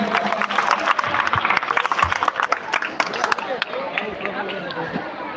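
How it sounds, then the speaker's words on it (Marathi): A live audience at a dance show breaks into dense, fast clapping mixed with crowd chatter, while a voice talks over the noise. "जोरदार टाळ्या झाला पाहिजे."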